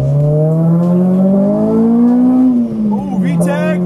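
An Acura RSX with coilovers revs hard, its engine note climbing steadily as it pulls into VTEC, then dropping briefly and rising again as the gears change, loud and close inside the car.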